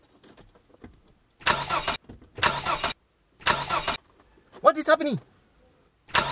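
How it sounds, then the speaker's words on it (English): A car engine cranking in repeated short bursts that fail to catch, separated by pauses, with a person speaking and exclaiming between attempts. "the car is not starting"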